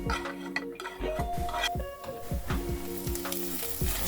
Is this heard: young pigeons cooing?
no